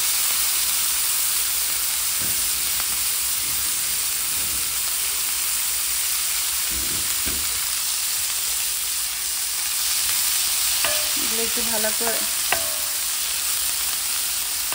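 Corn kernels fry in butter in a pan with a steady, close hiss and sizzle, broken by occasional scraping stirs and a few clinks of a spatula against the pan.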